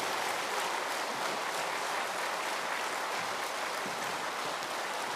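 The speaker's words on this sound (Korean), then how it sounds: "박수로 맞이해 주시면 감사하겠습니다" An audience of older attendees at a winter church camp gives sustained, even applause to welcome a pastor to the stage, a quiet wash of clapping with no talk over it.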